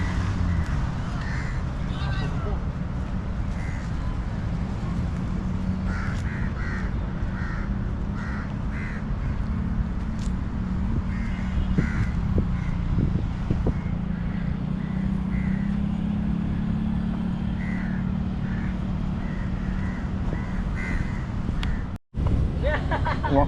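Crows cawing repeatedly at a distance on an evening outdoor run, harsh calls over a constant low traffic and wind rumble, with people chatting nearby.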